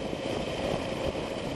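Steady, continuous motorcycle engine drone as a rider warms his tyres on a Suffolk rideout, a constant mid-level rumble with no clear revs or breaks.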